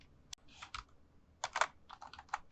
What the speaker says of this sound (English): For the start function, we can start typing our code.